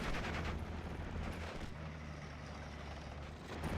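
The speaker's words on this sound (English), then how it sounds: "Armoured LMG rifles at that range do a fine job" Sustained light machine gun fire from armoured LMG infantry in the WWII strategy game Steel Division: Normandy 44, a dense, continuous clatter of rapid shots over low rumbling battlefield noise, loud and unbroken throughout.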